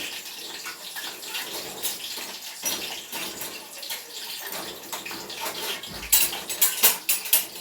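Biryani and chicken curry stirred in a home cooking pot, a steady scraping clatter of spoon against metal with occasional sharper clinks toward the end, fairly close and moderate in level.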